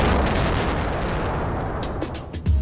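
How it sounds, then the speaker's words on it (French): An open-pit mine blast rumbles as one loud, sustained low roar that fills the whole stretch and ebbs slightly toward the end, with a final thump. "le sautage est déclenché."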